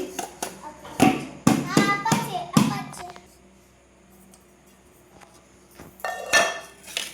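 Metal cake pan holding palm cake being tapped and knocked while the cake is turned out, several sharp clanks in quick succession, then a pause and more knocks, with a voice speaking in between.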